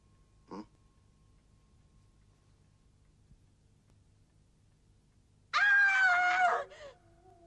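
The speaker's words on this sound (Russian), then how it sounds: "Кто кричал?" A person screams in an audio drama, a loud strained cry of about a second near the end, after a long near-silent stretch broken by one faint short sound.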